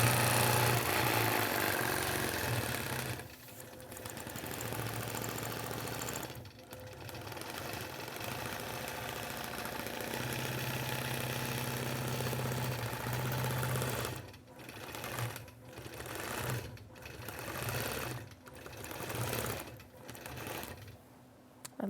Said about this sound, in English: I am going to go to quilt mode, pull up my bobbin thread, and let the Statler do its job